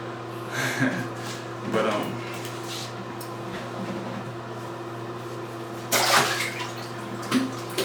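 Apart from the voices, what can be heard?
Asian water monitor lizard hissing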